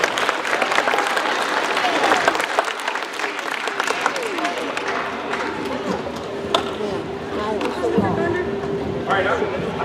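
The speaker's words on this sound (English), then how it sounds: "let's give a big round of applause for Mr." A middle school audience bursts into loud, sustained applause mixed with cheering and crowd chatter, claps dense and close throughout.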